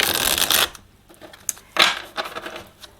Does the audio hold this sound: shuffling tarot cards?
yes